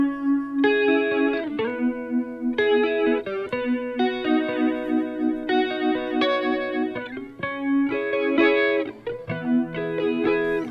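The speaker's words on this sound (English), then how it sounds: "the phaser on this sounds really good" An electric guitar runs through the phaser setting of an OBNE Visitor modulation pedal, ringing chords and melodic notes sweeping with a slow swirling phase, played alone up close without speech.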